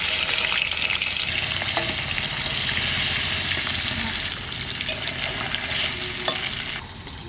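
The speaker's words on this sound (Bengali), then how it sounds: "মাছ ভাজা হয়ে গেছে, তুলে নেবো। অনেকটা তেল বেড়েছে।" Hilsa fish fry in a pan of hot oil on a rainy day, giving a loud, dense, steady sizzle and crackle that fades slightly toward the end, with faint stirring clicks.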